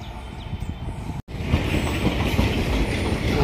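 A train rolls into Palakollu railway station, its wheels and carriages rumbling loudly and steadily close by, with a brief clatter and a faint squeal.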